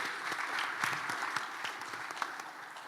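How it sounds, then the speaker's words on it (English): Audience applause at a CEO business summit in Ghana, steady and moderately distant, with individual sharp claps scattered through a continuous wash of clapping. "Let's all welcome them with a round of applause."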